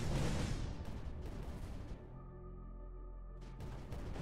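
Explosions in the strategy game Creeper World 4, a dense loud rumbling barrage of booms that fades to a droning hum before another blast rises at the end, with no talk.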